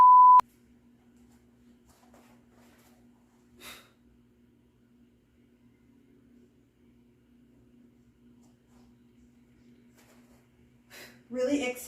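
A workout interval timer gives a single short, clear electronic beep at the start, followed by quiet with faint breathing and movement from someone exercising.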